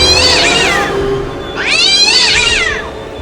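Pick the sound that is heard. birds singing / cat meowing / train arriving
cat meowing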